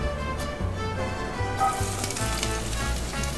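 Chopped onion hits hot olive oil in a pan, producing a steady sizzling hiss that swells louder partway through, close and without talk.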